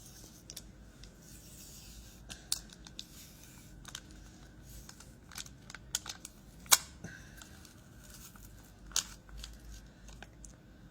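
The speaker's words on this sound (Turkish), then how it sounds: "Koruyucu folyoyu açıyorum." Protective film peeled off a Samsung phone, faint crinkling and scattered small ticks and scrapes over about ten seconds, close and quiet, with no talk.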